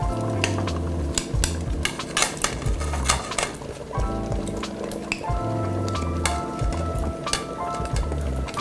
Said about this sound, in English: I'm going to add my sausage to the pot and I'm going to allow these to simmer for another 30 minutes.